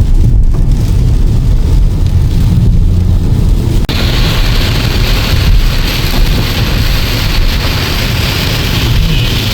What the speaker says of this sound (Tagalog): Grabe na naman bagyo dito guys.